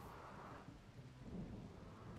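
Rain falling in the video game RimWorld during a wildfire, a faint, steady hiss of rainfall with low rumbling swells like distant thunder, no voices.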